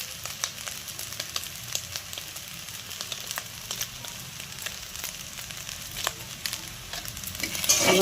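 Pasta coated in masala is stirred in a hot pan, giving a steady sizzle with frequent scraping clicks from the spoon, close and fairly loud throughout.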